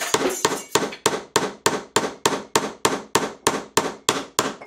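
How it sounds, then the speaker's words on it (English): A hammer strikes a 1/4 inch carriage bolt into an oversized hole in wood, about fourteen sharp, ringing blows in a steady rhythm, loud and close with no talk. "I think that I'm going to be able to drive the square part of the carriage bolt into that"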